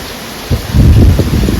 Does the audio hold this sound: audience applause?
no